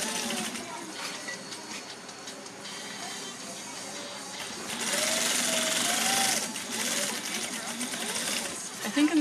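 Sewing machine stitching down the side of a fabric lining pocket, a fast rattling whir in short runs that grows louder midway, with someone speaking over parts of it.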